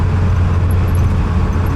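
A 1956 Chevrolet Nomad station wagon with a 265 V8 cruising along a road, giving a steady, loud low engine drone mixed with continuous road and tire rumble, with no talk over it.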